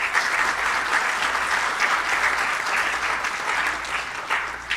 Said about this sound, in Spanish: Palmas para ellos, por favor.